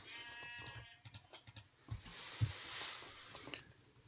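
Sheep bleating in the Minecraft video game, several short bleats scattered over a steady keyboard-typing clatter, with no talking.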